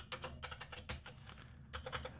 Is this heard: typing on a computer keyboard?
yes